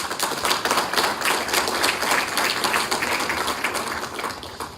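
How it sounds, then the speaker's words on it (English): A crowd claps at the 2019 American LNG Summit, with brisk, even applause holding steady for several seconds and then starting to thin. "I think that clap is my cue."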